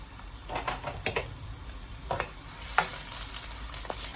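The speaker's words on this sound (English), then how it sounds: "we're going to give this a nice saute" Chopped bell peppers and garlic sauté in a pan for Jamaican ackee and saltfish, a low sizzle broken by several sharp, close scraping strokes as the mixture is stirred.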